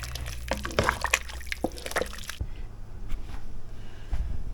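Water being stirred into moose stew in a pot, with close, soft squishing and sloshing of liquid and meat for a couple of seconds, followed by quieter low bubbling.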